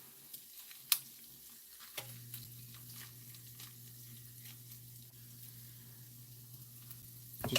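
Shallots sizzling steadily in a hot pan, a soft continuous frying hiss with a low hum underneath and a few sharp clinks and stirring scrapes, close and fairly quiet.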